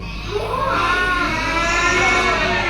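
Children's voices together imitate a buffalo's bellow, a drawn-out, rising and wavering low call sung in chorus, loud and close for a few seconds in a classroom.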